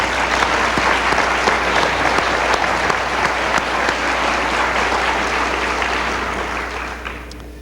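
An audience gives a full, loud round of applause in a hall, dense and continuous before thinning slightly and tapering off at the end.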